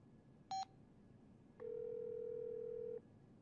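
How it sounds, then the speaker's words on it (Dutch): A cartoon telephone gives a short burst of dialing beeps, followed after a pause by a single steady tone lasting over a second, both clean and close against a quiet background. "dan pleeg ik een telefoontje."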